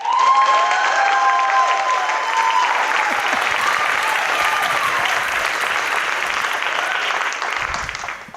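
An audience at a DEBx talk event applauds to welcome a speaker to the stage, steady, dense clapping from a full room that holds for about eight seconds before tapering off.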